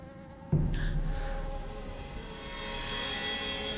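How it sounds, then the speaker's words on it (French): Flies buzz close by in a continuous drone that starts abruptly and holds steady, in a place with a foul smell and no speech. "C'est quoi toutes ces mouches?"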